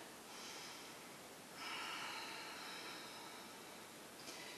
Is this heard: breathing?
yes